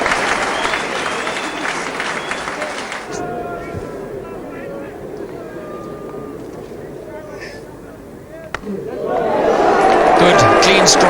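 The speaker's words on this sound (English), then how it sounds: "And a generous round of applause from the Headingley crowd." Cricket crowd at Headingley applauds during a 1981 Benson and Hedges Cup match, a broad round of clapping that fades into murmuring crowd noise with commentary, then swells again near the end.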